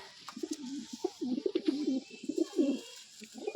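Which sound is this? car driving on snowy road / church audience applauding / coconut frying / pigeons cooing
pigeons cooing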